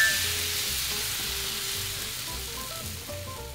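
Crepe batter sizzles steadily in a hot pan, a continuous soft frying hiss with faint scattered crackles, close and fairly quiet, with no talking.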